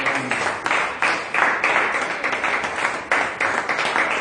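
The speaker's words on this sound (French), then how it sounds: "Donnons une acclamation." A church congregation applauds during a Sunday service with steady, fairly distant clapping and some cheering that lasts the whole stretch and sounds moderately loud.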